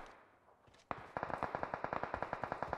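Rapid gunfire in the mobile battle royale game PUBG Mobile from a Mini 14 or SKS rifle: a loud, evenly spaced string of about fifteen sharp shots after a single report, close and with no talking.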